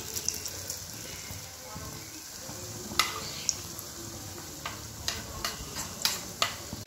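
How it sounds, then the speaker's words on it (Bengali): Pumpkin leaf fritters frying in a pan: a steady soft sizzle with scattered clinks and taps of a spoon, moderately close and fairly quiet. "সকালবেলায় কুমড়ো পাতা তুলে আনলাম, তো সেটারই বড়া বানাচ্ছি"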